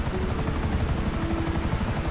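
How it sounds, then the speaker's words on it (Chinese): A helicopter sets down in GTA5 beside a lakeside villa with a waterfall: a loud, steady rotor chop with a deep engine rumble that pulses evenly throughout, with no voices. "我先把直升机停在这个上面哦"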